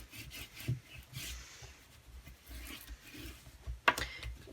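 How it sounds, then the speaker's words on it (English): Glued cardstock pieces of a journal folder being burnished down, a soft dry rubbing and scraping at close range with a sharper snap near the end, no talk. "Pop these 2 pieces together, slide them inside there, and then just burnish that down"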